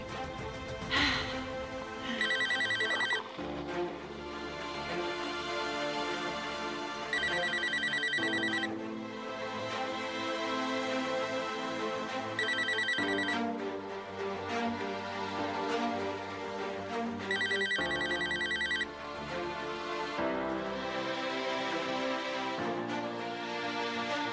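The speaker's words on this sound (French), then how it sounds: "Allez, Emre, décroche le téléphone, allez." A telephone bell rings in repeated bursts with short pauses between them, loud and alone over a steady background tone, during a dramatic indoor scene.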